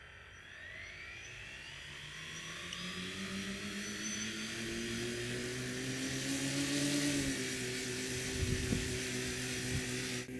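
The main lift motors of a Coanda-effect hovercraft spin up together. Their faint, buzzing whine climbs steadily in pitch and then holds at a level drone, with a few brief knocks near the end.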